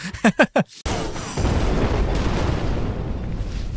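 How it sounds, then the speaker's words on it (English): Dense, sustained rumbling blasts with overlapping booms from many explosions going off everywhere, loud and continuous after a brief burst of voice-like sounds at the start. "there's just explosions going off everywhere"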